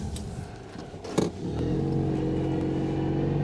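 Citroen 2CV straining in snow with its front-wheel drive, engine revving up: a brief bump and clatter, then a steady, buzzing rev held at moderate distance for the rest of the clip, with no voices.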